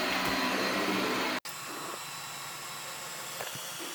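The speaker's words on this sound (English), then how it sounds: "So it's definitely a quieter vacuum cleaner." A ZOOZEE sweeping and mopping robot vacuum runs in mopping mode with a fairly quiet, steady whirring hiss, broken by one brief cutout before the motor resumes at an even level.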